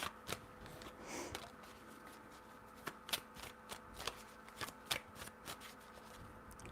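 Tarot cards are shuffled by hand in soft, scattered riffles and taps, a series of short crisp bursts at close range in a quiet space.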